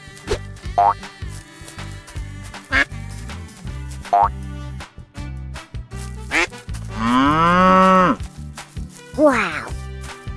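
A cartoon cow gives a long, loud moo near the end, preceded by short comic boings and pops over upbeat animated-show music, with another brief moo-like call closing the clip.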